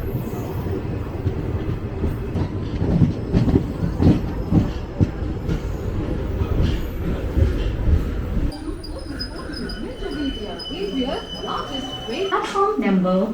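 The West Coast Express train rumbles loudly along the rails with rhythmic clatter, then shifts to fainter rolling noise with thin metallic wheel squeals and an insect-like whine; voices are faintly audible under it.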